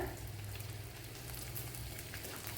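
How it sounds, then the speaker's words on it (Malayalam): Fenugreek seeds sizzling and crackling in hot oil in a pan while a dried fish curry is cooked, a steady dense frying hiss throughout with no talk. "ഇവിടെ ഓയിൽ ചൂടായിട്ടുണ്ട് ഇതിലേക്ക് ശകല ഉലുവ ഇട്ട് കൊടുക്കാം"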